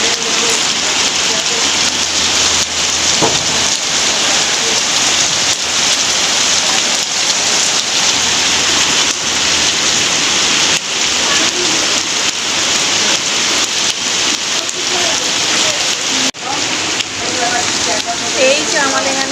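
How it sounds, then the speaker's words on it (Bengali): Heavy rain pours down outdoors as a loud, dense, unbroken hiss of drops hammering surfaces, holding steady for the whole stretch. "কত জোর বৃষ্টি এসছে।"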